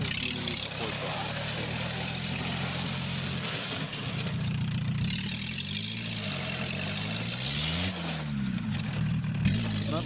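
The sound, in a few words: half a car driving, old Volkswagen Fox engine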